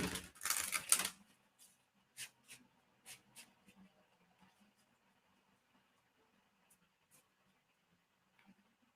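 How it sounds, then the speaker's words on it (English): Tarot cards from a Destiny deck being shuffled: a dense riffling burst at the start, then a few soft separate card slaps and rustles, close and quiet with no talking. "Let me shuffle a little more."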